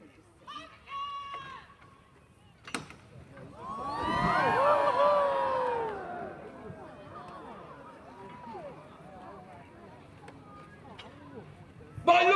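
A crowd cheers and shouts as a flaming fireball is launched from a trebuchet at Warwick Castle, a loud swell of voices rising and fading over a couple of seconds amid open-air murmur.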